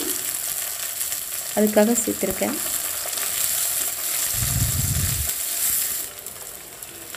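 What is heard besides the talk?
garlic, shallots and onion sautéing in oil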